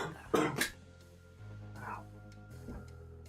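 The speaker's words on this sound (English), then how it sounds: "Coughing so hard, I'm getting like a physical headache." A person coughs hard in two sharp, close bursts, followed by a quieter throaty hack, set against a low steady hum.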